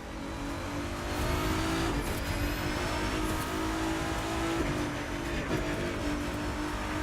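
Hypercar engines in the racing video game The Crew 2 drone at high revs on rough asphalt, a continuous loud engine roar with faint tire noise and occasional gear-shift dips, no speech.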